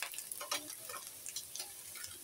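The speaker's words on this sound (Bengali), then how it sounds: "এখন এর ভিতরে আমি মশলা দিয়ে আমি কষাবো" Fried potatoes crackle softly in a pan as spices go in, a faint, uneven sizzle with small ticking pops and no voices.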